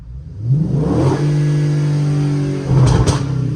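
A car engine revs up to about 4,000 rpm, climbs quickly, holds a loud steady drone for a couple of seconds, then gives a brief extra blip near the end. The engine is close and no one speaks.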